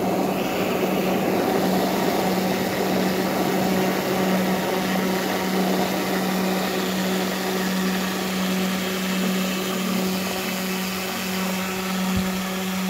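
A dual-motor, propeller-powered electric skateboard running on an uphill, giving a loud, continuous high-pitched motor and propeller whine with a steady drone throughout.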